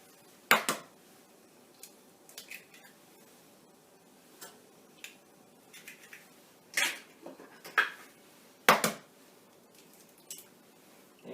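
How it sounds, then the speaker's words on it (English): Room-temperature eggs are cracked near the microphone, not on the rim of the bowl, giving sharp isolated knocks and light shell clicks spaced a second or more apart in a quiet room. "Never crack on your bowl, not to get shells in your mix."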